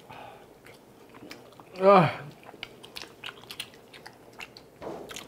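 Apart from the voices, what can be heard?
chewing and eating spicy tteokbokki and hotdog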